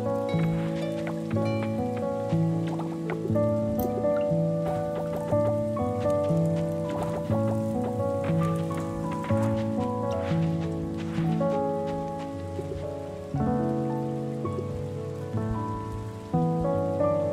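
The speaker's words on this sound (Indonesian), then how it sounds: "Hujan." Steady rain falls in the farming game Coral Island, a continuous dense patter under a bed of tonal game music, with no speech.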